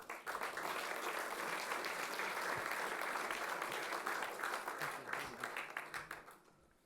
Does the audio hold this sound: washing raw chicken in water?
no